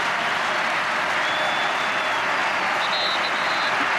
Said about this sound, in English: the crowd encouraging Paraguay yet again